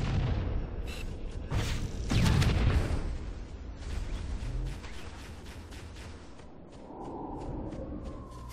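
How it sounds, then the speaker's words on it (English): Rocket launcher rounds exploding against a Covenant Wraith tank in Halo: CE, with several loud booming blasts in the first few seconds, then a rumbling engine and lingering battle noise. "Just use your rocket launcher on it"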